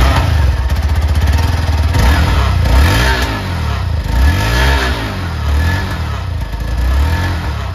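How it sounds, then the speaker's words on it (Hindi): A 2023 Hero Xpulse 4V Pro motorcycle exhaust barks and revs loudly, rising and falling in several throttle blips over a deep idling rumble, close by. "मैं आपको इसका एग्जॉस्ट नोट सुना देता हूँ कि आपको इसका एग्जॉस्ट नोट कैसा मिलता है"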